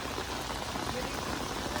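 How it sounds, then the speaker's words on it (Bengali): Heavy rain pours down at Qutub Minar in Delhi, a dense, loud and unbroken hiss of water hitting pooled ground and hard surfaces nearby. "প্রচন্ড বৃষ্টি দেখো কতটা, আর এখানে কত জল জমে গেছে"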